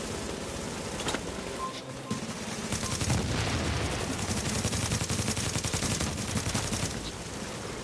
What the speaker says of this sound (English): Who's shooting me in the back?